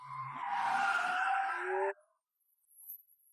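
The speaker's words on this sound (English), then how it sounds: "I drive my sports car, step on the gas, and race into the night." Sports car tires skidding and squealing on pavement as it races, a loud screeching slide with a rising engine note that cuts off abruptly into near silence.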